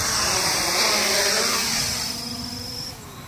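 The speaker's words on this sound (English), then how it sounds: "I gotta start the engines" Motors of a Hubsan H501c drone spinning up outdoors, a loud steady high whine with a rushing airy hiss that eases slightly toward the end, heard alone without talk.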